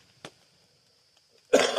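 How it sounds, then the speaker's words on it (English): A single short, dry cough from someone getting over a flu comes near the end, after a faint click and a long stretch of near silence, close and clear with no speech. "Still got a little bit of the cough."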